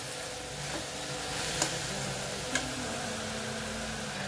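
A vegetable mixture for malai sabji sautéing in a pan, a soft steady sizzle with a couple of faint ticks from stirring.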